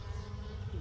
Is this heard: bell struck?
no